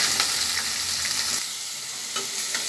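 Broccoli and cauliflower pieces hitting a hot pan for sweet and sour soup, a steady bright sizzle that drops slightly midway as the vegetables are stirred, close and loud with no talk.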